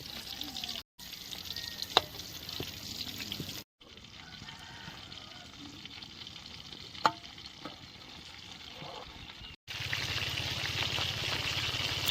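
Chicken leg pieces frying in oil give off a steady bubbling sizzle, broken by a few clicks and scrapes as a ladle turns them, with brief cuts of silence between stretches.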